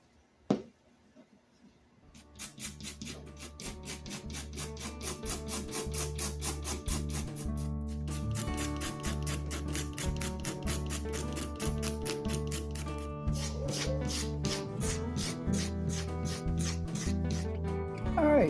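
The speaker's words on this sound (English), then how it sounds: "Let's get scraping." Blue paint is scraped off the wooden handles of old body hammers in a long run of rapid, evenly repeated rasping strokes, close and steady, with a short pause midway and no talk.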